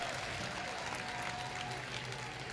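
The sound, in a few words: crowd applause at tractor pull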